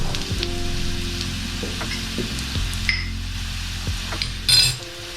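Poppy seeds are dry-roasted in a pan for Maharashtrian chivda, stirred with a spoon. Soft scraping and light metallic clinks come close and steady over a faint sizzle, with one brief louder rattle near the end.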